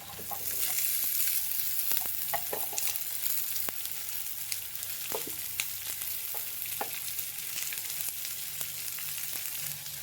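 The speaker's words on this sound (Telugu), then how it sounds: "ఇప్పుడు దొండకాయలు వేసుకుంటాను." Ivy gourd pieces sizzle and crackle in a pan with fried onions and turmeric, with occasional stirring scrapes and clicks over a steady hiss; close, no voices.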